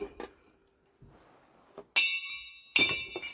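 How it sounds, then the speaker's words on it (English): A large gong struck twice, each hit a loud, bright metallic crash with a long shimmering ring that fades, preceded by a few softer taps and quiet handling noise. "That's a big gong."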